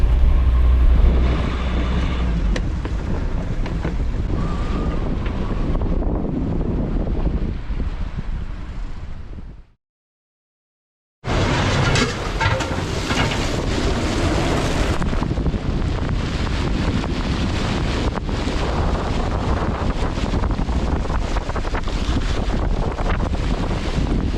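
Strong wind buffets a sailing boat off the inner coast of Norway, a loud continuous roar of wind against the microphone mixed with rushing water, briefly cutting out midway before resuming just as forcefully.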